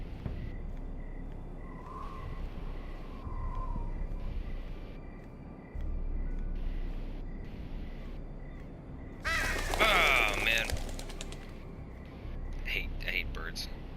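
Crows caw in a harsh, loud burst near the end of a night scene in castle gardens in a Game of Thrones video game, over dark ambient game sound, with a brief muttered remark from a player.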